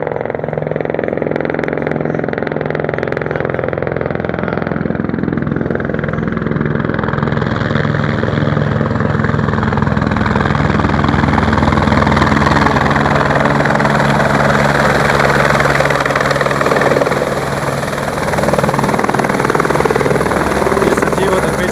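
A helicopter's steady rotor roar and engine drone, loud and continuous throughout, with faint voices underneath.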